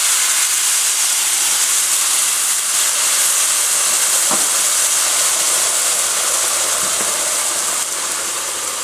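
Beef broth poured into a hot pot for Cajun pot roast gives a steady, loud, continuous sizzling hiss that fades slightly toward the end.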